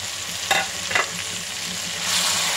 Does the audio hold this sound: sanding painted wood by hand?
no